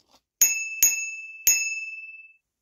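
A small bicycle bell on an electric mini motorbike rings three times in quick succession, each bright ding ringing out and fading, close and clear against silence.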